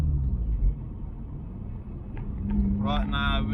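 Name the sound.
Mazda RX-8 accelerating in second gear pull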